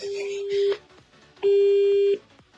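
Phone line tone after the other party hangs up mid-way through a prank call: two loud, steady electronic beeps, the second longer, with a short gap between them and no talking.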